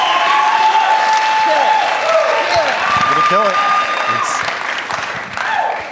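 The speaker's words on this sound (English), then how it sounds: "So please, a big round of applause." A large audience at a live speaking event applauds loudly and steadily as a speaker is brought on stage, with some whoops and brief voices in the crowd.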